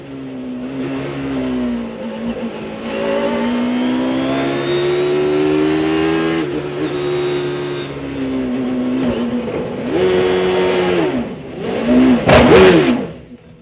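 A sports-prototype race car at the 2000 Petit Le Mans climbs through a sustained high-revving engine note, its harmonics rising and falling with gear changes, then a sharp loud burst of impact noise near the end.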